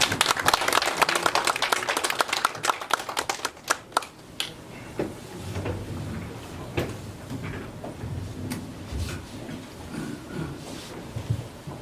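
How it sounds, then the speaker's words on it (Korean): A lecture audience applauds to welcome the speaker, with dense, loud clapping at the start that thins out after a few seconds into scattered, fading claps. "박수로 한번 맞이해주십시오"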